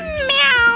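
A cartoon chef cat gives a single bright, close meow, clear and alone with no talk over it.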